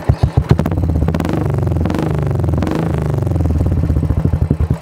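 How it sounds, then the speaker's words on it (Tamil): A Royal Enfield Thunderbird 350 with a modified exhaust idles with a loud, deep thump, then is revved up and down a few times, its note rising and falling before settling back into a choppy idle. "இப்போ எக்ஸாஸ்ட் சவுண்டு பார்க்கலாம்."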